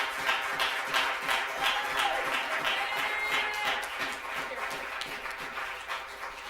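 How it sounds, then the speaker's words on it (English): Audience applause at a graduation ceremony, many hands clapping in a dense, steady patter from a crowd that fades slightly toward the end. "One more round of applause."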